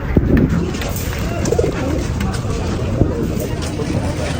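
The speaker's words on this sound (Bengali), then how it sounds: "তাই এখানে আছে কিছু কালারিং কবুতর।" Pigeons, including coloured fancy breeds, cooing at a busy village market, soft low coos heard faintly beneath continuous crowd chatter and nearby talking.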